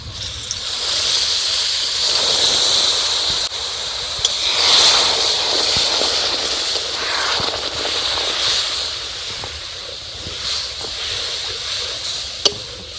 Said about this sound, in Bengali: আপনারা যদি গুড় দিয়ে আচার বানান তাহলে এইভাবে গুড়টা ফুটিয়ে নেবেন আগে